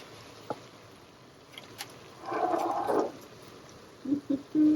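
Tomato sauce poured into a pot for chili, a brief wet glugging pour mid-way, then a few short soft splats and thuds close by in a quiet kitchen.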